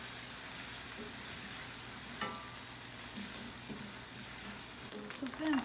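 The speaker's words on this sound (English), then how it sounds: "Onion we have to roast until it's like a light pink or like golden brown" Onion fries in a pan for kaleji, cooking toward light pink or golden brown. A soft, faint sizzle hisses steadily, with a few light utensil taps. A louder scrape or clatter comes near the end.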